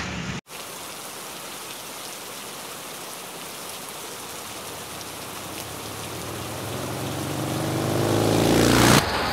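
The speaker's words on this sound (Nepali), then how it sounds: "अहिले पनि पानी परिरहेछ" Steady rain falls on a wet Kathmandu day, a dense, even hiss of drops on surfaces lasting throughout and swelling louder toward the end, with no talking.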